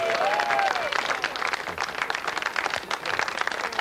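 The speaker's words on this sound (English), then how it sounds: "give him a nice round of applause." An audience applauds steadily throughout, a dense wash of many hands clapping, fairly loud and close, with a brief whistle-like tone near the start.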